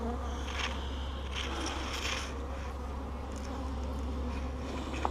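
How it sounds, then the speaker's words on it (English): Steady, dense buzzing of many bees swarming close by, a continuous droning hum with occasional louder passes of individual insects. "there's gonna be so many bees."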